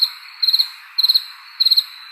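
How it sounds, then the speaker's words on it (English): Crickets chirping as a sound effect, loud and close, in four evenly spaced bursts of rapid trilled pulses with silence between. "Crickets."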